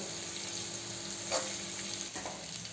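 Stuffed bitter gourds (karela) roast in a pan with a steady, soft sizzle and a few faint stirring clicks, heard alone without any voices.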